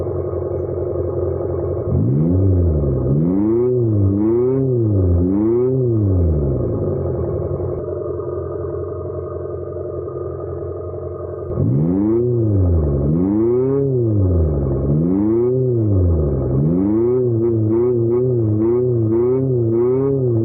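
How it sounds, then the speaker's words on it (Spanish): A 2024 Abarth 500e electric car driven on the road, its synthetic engine sound rising and falling in repeated rev-like sweeps heard from inside the cabin, steady and fairly loud with no talking. "Pues ya vamos al volante de este Abarth 500e. Sí, Abarth 500e. Es un coche eléctrico"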